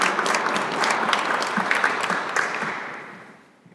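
Applause from a panel audience honouring international alumni of Łódź University of Technology, steady dense clapping that tapers off toward the end.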